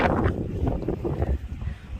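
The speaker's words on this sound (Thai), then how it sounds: "ลมก็แรงด้วยนะคะเนี่ย" Strong wind buffets the microphone high on a fog-covered mountain near a tower at Wurmberg in Germany's Harz range, a steady, loud low rumble throughout with no talking.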